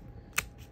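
A single quiet, crisp snip of scissors cutting a sheet into small pieces, isolated against faint room hiss.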